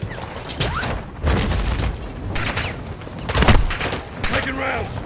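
Bursts of rapid gunfire in the video game DMZ crackle in clustered volleys with mechanical clatter, loud and close, while voices talk over the action.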